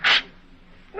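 A single short, forceful sneeze in an old-time radio drama opens the moment, followed by a quiet pause and the start of a voice.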